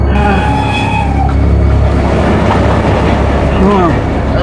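A train rolls through a railway crossing, a loud continuous rumble with rail clatter filling the whole stretch while voices talk over it.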